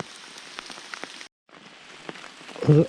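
Rain falls steadily in a forest, a close patter of drops on leaves and ground, broken by a brief gap, and a soft voiced sound rises near the end.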